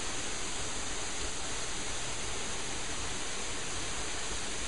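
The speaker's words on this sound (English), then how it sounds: "The waterfall swimming hole." Waterfall at a swimming hole in Cockscomb Basin: a steady, broadband rushing roar of falling water, constant and enveloping with no breaks or voices.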